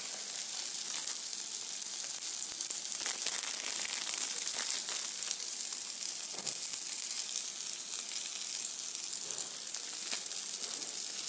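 Tomatoes frying in a pan for a chichinga kofta curry, a dense, even sizzle that hisses without a break for several seconds, close and moderately loud with occasional small crackles and no speech.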